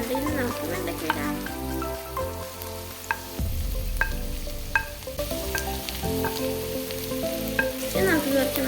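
Okra sizzles in a pan with green chillies and curry leaves, a steady loud frying hiss with occasional stirring scrapes, over background music.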